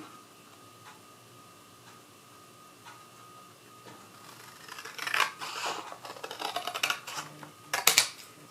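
Scissors cut paper along a straight line during a crafting project, producing a short run of crisp snips and crunches that grow louder near the end after a quiet stretch.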